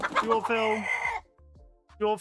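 A person imitates a chicken with a drawn-out vocal cluck and crowing-like squawk, close and loud, then a short pause and another burst.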